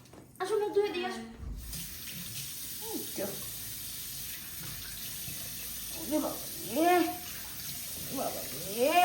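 Tap water runs into a sink while a child's face is washed, a steady splashing wash with a voice talking over it at intervals.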